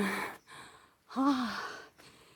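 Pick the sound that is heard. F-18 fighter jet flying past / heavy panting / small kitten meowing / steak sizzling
heavy panting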